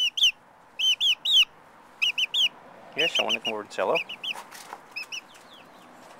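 Pet chickens cluck and chirp in short repeated bursts close by at breakfast in spring, with a louder flurry of calls in the middle, while a person talks to them.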